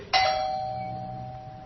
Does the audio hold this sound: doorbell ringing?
yes